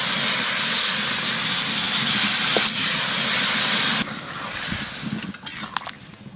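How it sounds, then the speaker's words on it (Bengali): Water poured into a pan of sautéed chicken for curry bursts into a loud, continuous hissing spray of steam, then drops to a quieter sizzle with a few small clinks near the end. "মাংস কষে নিয়েছি, এবারে জল দিয়ে দেবো।"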